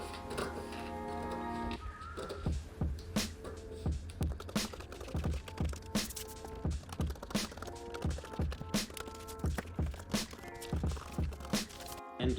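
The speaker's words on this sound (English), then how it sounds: "I want to grab my paper scissors and cut along the" Paper scissors cut along the dashed line of a paper mask pattern, giving a steady run of crisp, close snips and crunches at a regular rhythm. Faint tonal background sounds sit underneath the cutting.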